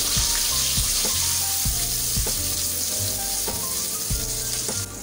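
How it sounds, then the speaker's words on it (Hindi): Ground onion paste fries in oil over a low flame for a chicken jalfrezi biryani, giving a steady, loud sizzle throughout, with soft periodic knocks as the mixture is stirred. "ऑयल में प्याज ऐड करके पिसी हुई प्याज ऐड करके मैं फाइव टू सेवन मिनट्स के लिए इसको फ्राई करूँगी"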